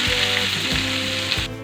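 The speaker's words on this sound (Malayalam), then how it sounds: "ക്യാബേജ് തോരൻ വയ്ക്കാൻ വേണ്ടി കുറച്ച് ഉണക്കമുളകും കുറച്ച് വേപ്പിലയും കൂടി ഇട്ട് കൊടുക്കുകയാണ്" Dried red chillies and curry leaves sizzle loudly in hot oil in a pan for cabbage thoran, a continuous close frying hiss with faint stirring, cutting off abruptly at the end.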